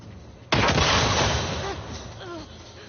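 A landmine detonates in a video game with a sudden, loud explosion that erupts sharply and then decays into a long rumbling tail with scattered debris sounds.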